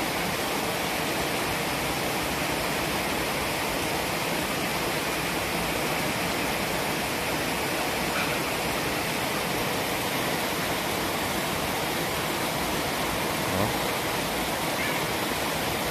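Flowing stream water at a natural spot in Baybay, Leyte, a steady, broad rushing wash that stays even and close throughout with no voices over it.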